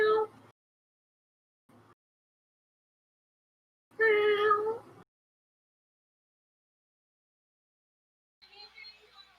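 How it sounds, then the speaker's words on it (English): A robotic cat gives short electronic meows, several brief separated bursts with one louder, longer call in the middle and a faint final one, with silence between them. "But all of a sudden you just hear a meow."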